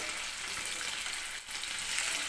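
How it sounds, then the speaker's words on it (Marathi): Cut potato pieces frying in hot oil for aloo kurma, a steady, close, broadband sizzle that holds evenly throughout with only a brief dip midway. "तर सुरुवातीला आपण हे जे कट करून घेतलेले बटाटे आहेत ते तेलामध्ये मी व्यवस्थित फ्राय करून घेणार आहे."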